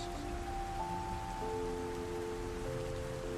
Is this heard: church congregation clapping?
no